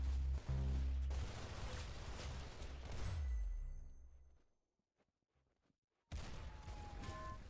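Gunfire in a Roblox shooting game: quiet rapid bursts of shots and booms in the first few seconds, then near silence before the game sounds return.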